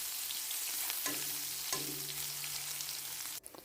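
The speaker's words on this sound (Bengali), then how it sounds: "এর মধ্যে আমি দিয়ে দেব পেঁয়াজ কুচি পেঁয়াজটাকে অল্প ভেজে নিতে হবে" Chopped onion frying in oil with fenugreek and cumin seeds, a constant bright sizzle with a couple of utensil taps and stirring scrapes, close, ending in a brief clatter.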